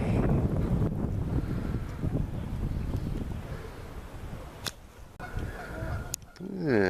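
Geese honk at a bird sanctuary, a few calls rising near the end over heavy wind rumble buffeting the microphone outdoors.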